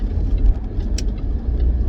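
Inside a Jaguar XF Sportbrake on the move, a steady, loud low road and engine rumble fills the cabin, with a faint brief tick partway through and no one speaking.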